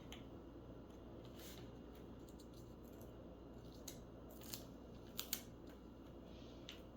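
Scissors cutting a sheet of paper in half, with a few quiet, crisp snips over a steady background hiss.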